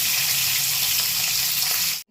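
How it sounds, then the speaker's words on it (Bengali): Chopped cauliflower fries in hot oil with turmeric and salt, making a continuous, even hiss of sizzling that cuts off abruptly at the end. "ফুলকপিটা আগে ভেজে নেব।"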